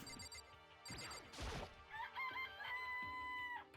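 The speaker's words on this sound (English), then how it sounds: "This place even has chickens, huh?" Chickens in the Danganronpa video game cluck and crow with bright, warbling calls over looping game music, with a short crash-like burst in the middle.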